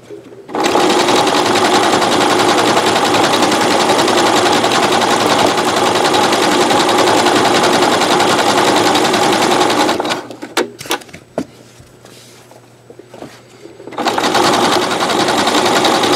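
Sewing machine running steadily and loudly while stitching a wide decorative satin stitch on a mosaic rope bowl, pausing briefly with a few clicks near the end before resuming.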